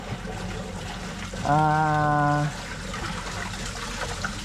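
Water from an aquarium filter in a red arowana tank splashes and trickles in a steady low wash, broken midway by a brief sustained voiced tone lasting about a second.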